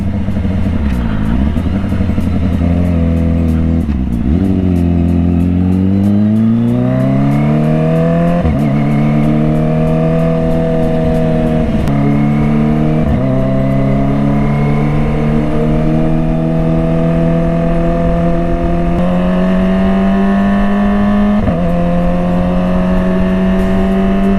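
A Kawasaki ZX25R motorcycle engine revs up close and loud on a street ride, its pitch climbing steadily and dropping back at each gear change, with no talking.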